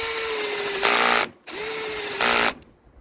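A Bauer 20-volt cordless drill driving into wood, heard as two loud, close whining bursts, each climbing into a harsher bogged-down tone before cutting off, with a brief gap between them.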